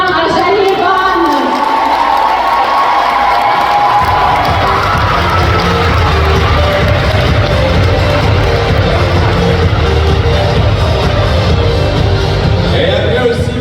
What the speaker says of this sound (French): Une bonne main d'applaudissement à Janie et Van.